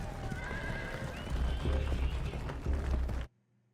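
Horses neigh and whinny amid hoof clip-clops in a medieval knight TV drama, loud and close over a rumbling scene, cutting off abruptly near the end.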